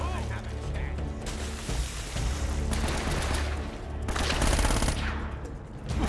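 Enemy gunfire in Uncharted: Drake's Fortune, rapid bursts of automatic fire and single shots crackling loudly across the clip amid game combat noise, with a louder volley near the end.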